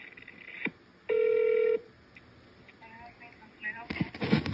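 A telephone line on hold gives a single sustained electronic tone lasting under a second, heard amid faint line noise and short clicks. It ends with louder crackling bursts.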